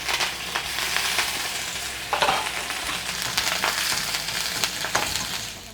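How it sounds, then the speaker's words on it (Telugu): Urad dal and curry leaves frying in a little hot oil for a tempering, a dense, loud crackling sizzle with occasional stirring scrapes and pops. "దాంట్లోంచి కొంచెం నూనె వేసి మినపప్పు వేస్తున్నా."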